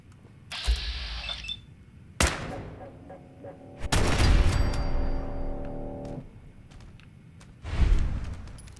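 Automated turrets firing in Fallout 4, with sharp bursts of gunfire and mechanical clatter in several loud, separate volleys, plus ringing metallic tones and a final burst near the end.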